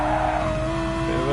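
A GT3-style race car in Gran Turismo 7 slides into oversteer, its engine holding a steady, loud whining drone with a hint of tire scrub throughout.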